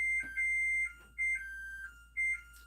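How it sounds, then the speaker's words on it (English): An alarm marking the end of a work day beeps in three evenly spaced, bright electronic tones, each a sustained two-pitch chirp about half a second long, close and clear over near silence. "Yeah, that's my alarm to stop working for the day."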